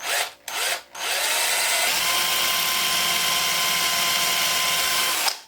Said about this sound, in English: Now it's time to drill the hole for the hinge pin.